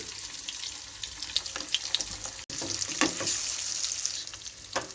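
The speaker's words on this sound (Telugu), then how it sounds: "ఎగ్స్ని ఇందులో వేసుకోవాలి వేసుకొని దూరగా వేయించుకోవాలి" Eggs frying in oil in a pan, a steady close hiss and crackle with scattered spits and pops that runs throughout, brief dropout midway, no talking.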